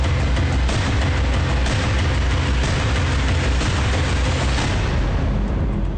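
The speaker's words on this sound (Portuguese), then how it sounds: "Após o vazamento, a explosão é inevitável." A gas refinery explosion in Reynosa, Mexico, rendered as a loud, sustained, dense roar of rumbling blasts and crackling bursts. The din stays continuous and close throughout, with no voices.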